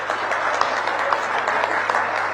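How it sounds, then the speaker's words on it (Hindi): Audience at a Yoga Day event applauds dignitaries, dense steady clapping throughout, moderately loud and continuous, without pauses. "एक बार खड़े हो जाइए, ताली बजा दीजिए"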